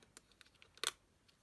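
Paper scissors snip through crumb cake cardstock for a feather shape, a few faint light clicks followed by one sharper, louder cut near the middle, with quiet surroundings.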